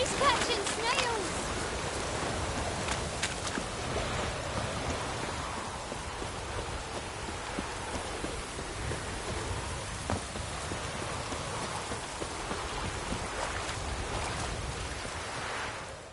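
Flowing stream water in a PS4 video game, a steady rushing, rain-like wash of water continuing evenly throughout at moderate level, with occasional faint clicks and taps over it.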